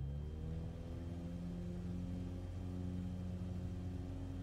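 A bush plane's propeller engine in Microsoft Flight Simulator drones steadily and fairly softly, its hum climbing slightly in pitch as it revs up, with no other sounds over it.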